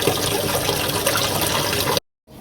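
Filtered water pours steadily into a Maquet HCU 40 heater-cooler unit, a close, full rushing that cuts off abruptly, leaving near silence.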